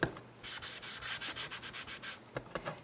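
A stamping sponge dabs old olive ink onto card stock in a quick, steady run of soft scuffing pats, close and quiet, then a few looser taps at the end, with no talking.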